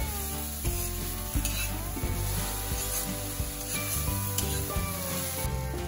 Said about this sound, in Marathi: भाजत राहायचं जोवर कोबी लालसर होते तो.